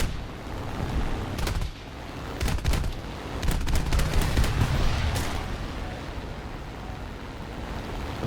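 Cannon fire from a Yak-9T fighter plane in a flight video game comes in several quick, rattling bursts spaced a second or so apart over a rumbling engine drone.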